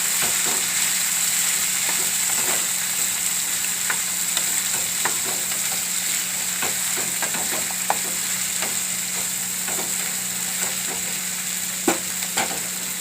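Spiny gourd (kantola) being stirred into hot oil in a frying pan, a steady close sizzle with scattered spatula scrapes and clicks throughout, no voices.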